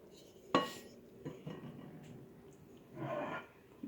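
A lid set onto a cooking pot of simmering vegetable broth gives one sharp metallic clink early on, followed later by a softer scraping rattle, all faint and close in a quiet room.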